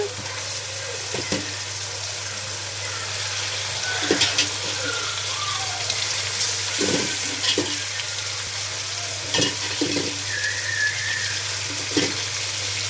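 Fish sizzles steadily in a hot pan during home cooking, a continuous frying hiss broken by occasional stirring clatter and a faint tap of water, with no talking.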